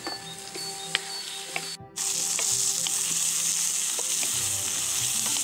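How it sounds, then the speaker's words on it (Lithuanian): Vegetables including carrots and peppers sizzle in a pot for oxtail stew, first with gentle crackling and scraping clicks, then a sudden surge of loud, steady frying hiss, close and continuous with no voices. "Viską skrūdinam, kad gražiai apkeptų, apskrūstų, kad morkytės netgi truputuką pajuoduotų."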